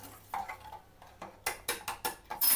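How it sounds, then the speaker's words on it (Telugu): Dora cake batter being stirred in a bowl, with soft scraping and then a quick series of sharp spoon taps against the bowl rim, close and fairly quiet. "మంచిగా కలుపు."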